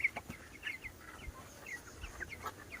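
Young farm-raised chickens, about 24 days old, cheep and cluck faintly in short scattered bursts over a low outdoor background, with a few soft thumps.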